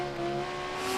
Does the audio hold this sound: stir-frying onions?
no